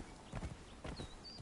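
Horse hooves clip-clop in a video game as the horse is ridden, a quick run of soft thuds in two short bursts, fairly faint, with no talking over them.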